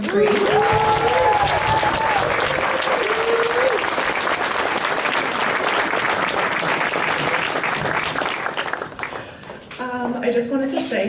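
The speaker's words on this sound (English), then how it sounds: "another round of applause for the fourth grade" An audience applauds a fourth grade school play in a steady, dense burst of clapping that fills most of the stretch, with a voice and some crowd noise coming through near the end.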